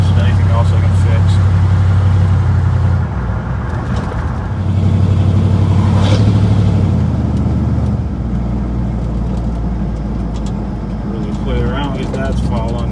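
A pickup truck engine drones loud and close while driving on a backroad, its pitch rising and falling as the throttle is worked, with someone talking over it.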